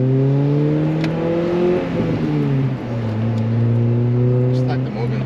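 A Honda Prelude fitted with a Mugen exhaust and muffler drones steadily while driving, its engine note rising and dipping with speed, loud and close.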